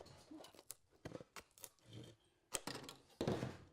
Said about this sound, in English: Then, using a pair of aviation snips,